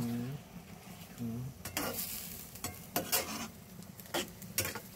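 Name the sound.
stirring pork in oyster sauce in a pan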